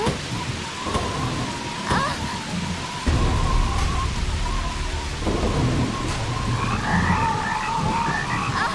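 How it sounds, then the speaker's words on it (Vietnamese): Heavy rain pours down at night in a Vietnamese animated folk tale, a steady dense hiss that swells louder partway through, with frogs croaking and possible thunder rumbling beneath. "Chết rồi, mưa to quá."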